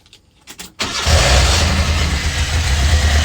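A car with a built motor, forged heads and dual Weber carburetors cold-starts after sitting overnight: a few starter cranks, then the engine catches and settles into a loud, rumbling idle nearby.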